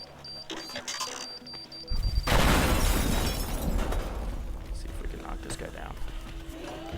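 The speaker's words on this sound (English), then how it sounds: "I'm going to just use a bomb on all these things" A bomb detonates in the voxel-destruction game Teardown, a sudden loud burst of crashing and shattering debris that hits about two seconds in and rumbles on for several seconds while someone talks over it.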